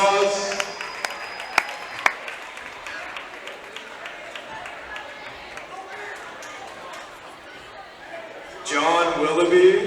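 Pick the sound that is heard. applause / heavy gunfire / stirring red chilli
applause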